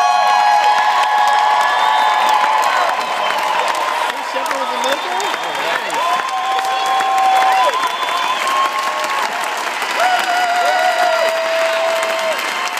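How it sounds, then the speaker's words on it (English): A crowd applauds and cheers to honor military veterans at a tribute event, sustained clapping mixed with whoops and shouts, with voices and tonal sounds heard over the din throughout. "I think we owe all of them a big round of applause"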